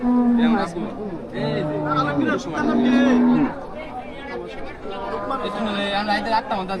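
Cattle at a cattle market by the Jamalpur ferry ghat moo in long, loud calls, several overlapping near the start and middle, amid a busy crowd of people talking and bargaining.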